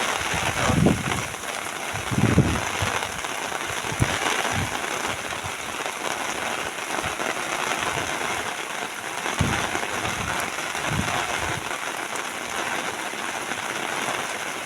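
Heavy rain pours steadily on Janmashtami evening, a dense continuous hiss with occasional louder splatters and thuds, no voices over it.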